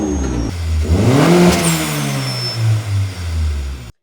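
A turbocharged Honda Civic fitted with an NGR blow-off valve revs up close by, engine pitch rising and falling, a sharp hiss from the valve, then the sound cuts off abruptly.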